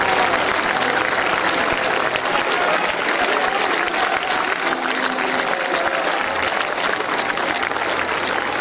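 A large audience at a 2021 college annual award function applauds steadily for the best player of the year, with dense, continuous clapping filling the whole stretch and scattered voices mixed in.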